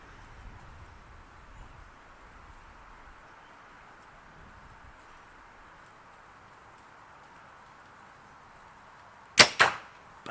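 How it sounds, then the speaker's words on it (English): Victory VAP 350 arrows with 140-grain points strike an indoor archery target in two quick, sharp impacts near the end, after a long quiet stretch. "So here I'm shooting thin arrows. So these are Victory VAPs, 350s, 140 grain points"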